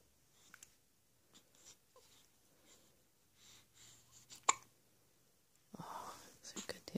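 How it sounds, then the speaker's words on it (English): A baby about one week old hiccups indoors, several faint, sharp catches spaced irregularly amid soft breathing and rustle, with a louder burst of movement and noise near the end. "Oh, those are good hiccups."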